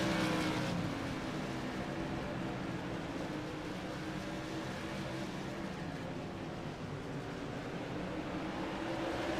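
A modified race car engine drones steadily as the car pulls off pit road at a short oval track, a continuous moderately distant roar with a faint crowd wash and no speech.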